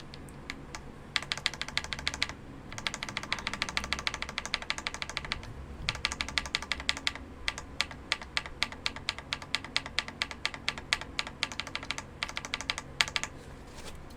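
Rapid clicking of keys on an Akko MOD 007 mechanical keyboard, a steady stream of crisp taps close up, with brief pauses between bursts.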